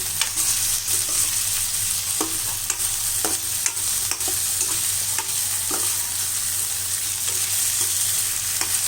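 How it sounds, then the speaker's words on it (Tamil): Brinjal sautés in oil in a pan for an eggplant gravy, a steady, close sizzle broken by repeated scraping stirs at an irregular rhythm. "இந்த கத்திரிக்காய் வந்து இந்த எண்ணெயிலே நல்லா வதங்கணும்"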